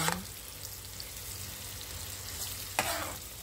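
Butter frying in a pan gives a soft, steady sizzle, with a sharp scrape from stirring near the start and another near the end, close and without talking.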